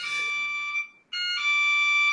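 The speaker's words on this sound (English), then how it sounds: "that is my cat doorbell" Electronic cat doorbell sounding a steady high tonal beep for almost a second, a brief gap, then the tone resumes and holds, loud and close with no talk.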